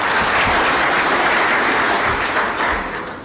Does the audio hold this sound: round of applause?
yes